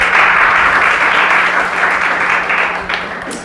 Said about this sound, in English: give yourselves another hand of applause for being here